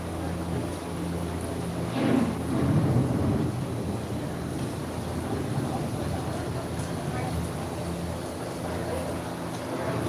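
A low rumbling thunderstorm effect rolls through Epcot's The Land boat ride, swelling briefly before settling into a steady dark roar beneath a narrator's calm voice.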